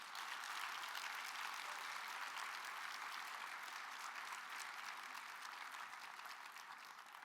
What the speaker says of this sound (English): let's give her a round of applause and thank her for her service